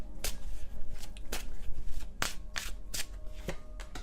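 A deck of tarot cards is shuffled by hand at close range, crisp riffling bursts and sharp card snaps repeating in a quick, uneven rhythm with no voices.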